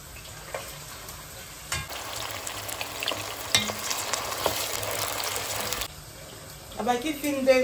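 Onions and shallots sautéing in a hot pan while cooking lamb chops, a bright sizzle and frying hiss with stirring that builds after a brief pause and then cuts out, with some faint voice in the background.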